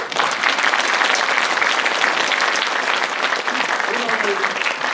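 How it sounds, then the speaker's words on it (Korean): An audience at the inauguration of the third president of the Sejong City Sports Council breaks into sustained, loud applause, a dense and even roar of clapping with some voices murmuring beneath it. "박수!"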